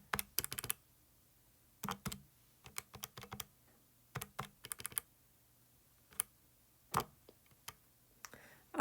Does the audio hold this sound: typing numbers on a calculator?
yes